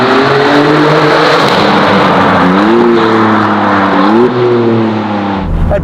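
A Maserati MC20 Cielo with a Novitec exhaust revs loudly and close, its engine note rising and falling in a sustained, throaty drone before dropping off at the end.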